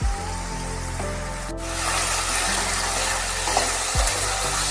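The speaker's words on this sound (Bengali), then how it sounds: "ফোড়ন তেল আর আলু একসাথে খুব ভালোভাবে একটু নেড়ে ছেড়ে দিয়ে দিয়ে দিচ্ছি" New potatoes with their skins on fry in tempered oil while being stirred, a close crackling sizzle that builds after a brief tonal hum at the start, with a couple of stirring knocks and no talking.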